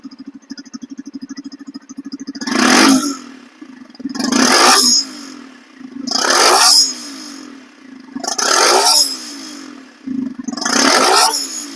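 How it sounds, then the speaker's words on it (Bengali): A nearly new 2025 second-hand motorcycle idles with a steady low putter, broken by five loud throttle revs at roughly two-second intervals, each rising and falling back to idle, close by. "এখন আমি আপনাদেরকে এই বাইকটি স্টার্ট করে সাউন্ড শোনাবো"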